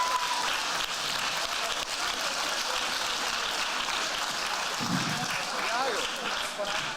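Steady, full applause from an audience at the 2022 ICPC BAPC programming contest closing ceremony, honoring a silver medalist team, a continuous dense clapping wash with a brief cheer near the end.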